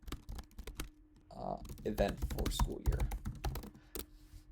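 Rapid computer keyboard typing, clicking in quick irregular bursts while a calendar event is entered in Schoology, with a person talking over the keys throughout.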